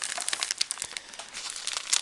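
Cigar packaging crinkled and rustled as it is opened, a close run of crisp plastic crackles and small snaps lasting a couple of seconds, with no talking.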